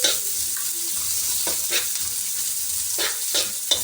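Garlic, onion and ginger sauté in a hot pan, giving a steady close sizzle with a few sharper bursts of stirring and spatula scrapes, and no voices.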